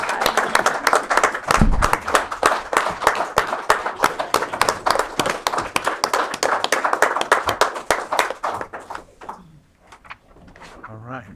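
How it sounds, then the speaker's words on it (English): Audience applause for 4-H award winners at a county Board of Supervisors meeting, a sustained burst of clapping that fades out near the end. "Give them another round of applause."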